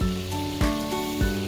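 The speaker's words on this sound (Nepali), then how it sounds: "त माछा तार्दै गर्छ" Fish frying in a pan for a homemade fish biryani, giving a loud, steady sizzle with brief crackling bursts that recur about every half second, heard close up with no voices.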